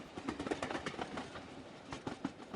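Jan Shatabdi Express 12076 pulling out of Kayamkulam station after a one-minute halt: a steady low rumble with soft, rhythmic clickety-clack from the wheels, heard from inside the train at a moderate, even level.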